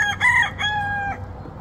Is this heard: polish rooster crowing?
yes